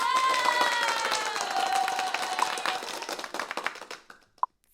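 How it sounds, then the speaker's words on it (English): Audience at a live trivia night bursts into clapping and some cheering, dense at first and thinning out into scattered claps before fading to near silence. "Ladies and gentlemen, how about a nice round of applause"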